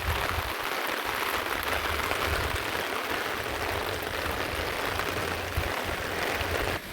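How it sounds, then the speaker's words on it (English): Steady outdoor rain pouring down during a walk to a car, a dense continuous hiss of drops on surfaces, loud and close throughout, with no talking. "Your girl got caught in the rain again."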